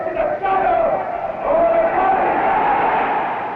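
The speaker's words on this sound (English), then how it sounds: "The cheering of the great crowd interrupts Il Duce" A great crowd of fascists cheers a speaker's speech in a sustained, echoing roar of massed voices that swells midway and stays loud throughout.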